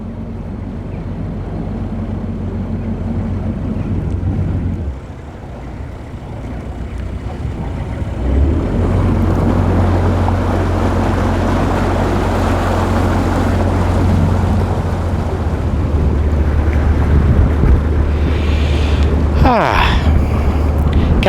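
Steady, loud wind buffets a narrowboat on a canal, with continuous rushing noise and a low engine rumble beneath it.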